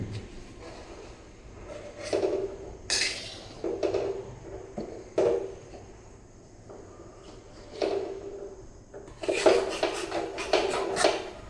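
A metal spoon scrapes and clinks against a pan of simmering milk, gathering the cream: irregular scratches and knocks, with a louder cluster of scraping near the end.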